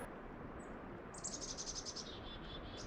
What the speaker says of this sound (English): The birds are laughing at me.